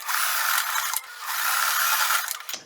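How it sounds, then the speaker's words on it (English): Sewing machine stitching a fabric tab onto a shirt being upcycled into a skirt, running in two close, steady bursts of rapid whirring with a brief pause between and no talk. "and I'm going to stitch there."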